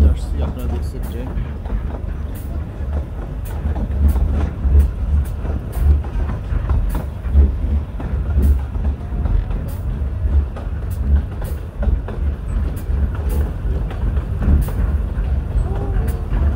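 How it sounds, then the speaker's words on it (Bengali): The Llanberis Lake Railway train runs through forested hills, giving a steady low rumble with rattling and clanking throughout, heard from on board. "আপনারা দেখছেন ট্রেন।"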